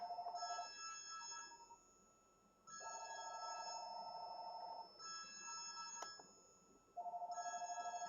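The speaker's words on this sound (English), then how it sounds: "So that's calling on line 2. Do not answer that." A telephone on line 2 rings in repeated bursts of about two seconds, each separated by a short pause, with a faint steady hum underneath and no talking.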